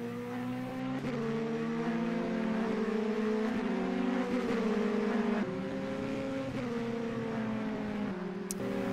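Formule Renault 2.0 single-seater racing at the Lédenon circuit, engine note held loud and steady as it passes, with brief pitch shifts at gear changes and other cars droning close behind.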